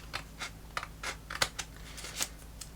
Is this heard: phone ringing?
no